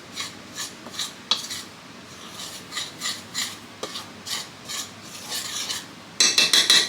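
A spoon scrapes and rubs around a bowl mixing date nut cookie ingredients, a steady rasping rhythm of strokes close by, ending in a quicker burst of louder scraping, with no talk.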